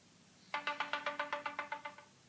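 A phone ringtone plays alone indoors, about a dozen evenly spaced electronic pulses in a quick, steady rhythm, clear and moderately loud against a quiet room.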